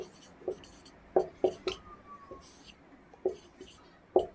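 A pen writing on a board or paper during a lesson, a run of short scratchy strokes and taps with uneven gaps, clear and close above faint room noise.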